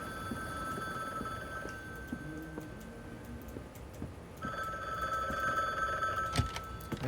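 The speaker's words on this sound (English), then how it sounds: "Oh, I guess our phone is ringing." A telephone rings in the video game The Bookwalker: Thief of Tales, a repeated electronic bell trill against a low ambient drone and soft game noises, with no talking.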